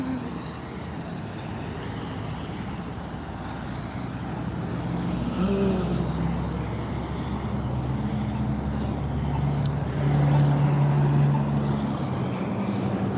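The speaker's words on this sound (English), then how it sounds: "You hear the engine sound at the same time?" Car engines from traffic passing at a distance, a steady low rumble that swells gradually with a vehicle drone rising toward the middle and end, no voices.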